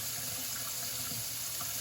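Hot water runs steadily into a sink as dishes are washed by hand, a continuous close splashing and gushing with no talk over it.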